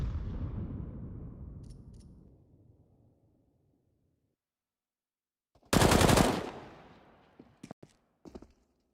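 Submachine gun fire from an MP9 in Counter-Strike during a match on the Ancient map, a loud rapid burst followed by a few short, sharp shots at the end, with a fading rumble at the start.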